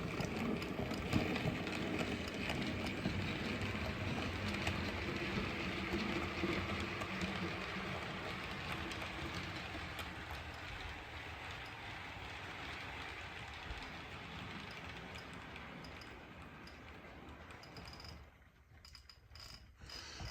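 An OO gauge model train rolls steadily into a station on a layout, a continuous faint rumble with soft rail clatter, easing off near the end.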